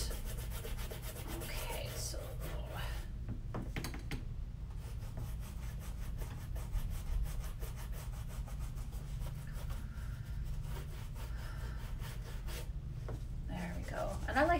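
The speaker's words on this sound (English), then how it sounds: "To really use this brush to get into the crooks and crannies, you know, around where the leathers are, the threads" A horsehair dauber brush rubs and scrubs over leather shoes while black dye is worked into the seams and stitching, giving a continuous close bristly swishing with brief pauses.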